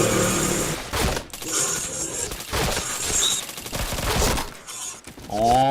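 Gunfire in the shooter game Point Blank, rapid bursts of shots and automatic fire crackling close and loud in quick clusters, with brief gaps between volleys.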